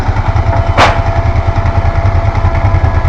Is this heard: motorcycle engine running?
yes